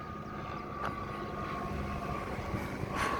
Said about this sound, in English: There's a tiny plane.